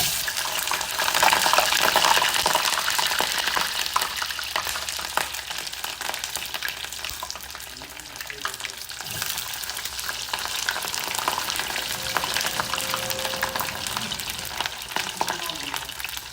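Crab shumai dumplings fry in hot oil, giving a steady, dense sizzle and crackle that runs on alone with no talking.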